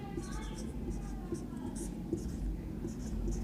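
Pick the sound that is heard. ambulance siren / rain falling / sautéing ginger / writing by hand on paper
writing by hand on paper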